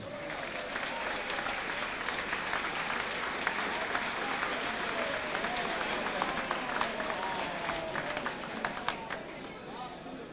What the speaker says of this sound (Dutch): Een applaus voor de Buncommissie.